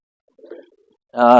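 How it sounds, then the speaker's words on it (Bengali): Fighting pigeons give a soft, low coo followed by a louder, close warbling call, with nothing else around it. "এই কবুতরটা এখনো মারামারি করতেছে"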